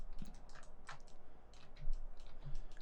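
Keys on a computer keyboard are pressed in a quick series of close, crisp clicks, irregularly spaced, with no talking.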